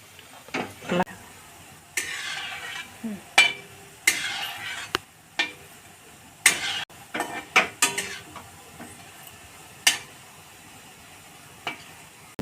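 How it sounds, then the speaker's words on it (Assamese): A wok of homemade lalmohan dough balls frying in hot oil is shaken and stirred, giving bursts of sizzling and metallic scraping and clinks in an irregular rhythm. "এনেকৈ কেৰাহীটো লৰাই দি দিছোঁ।"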